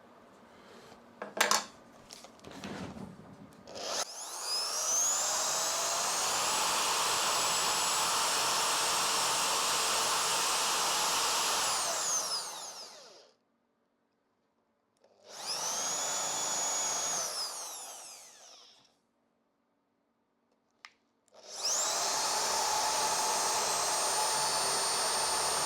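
A power drill bores into wood in a workshop, three long whining runs separated by quiet pauses, with a few knocks and clatters near the start.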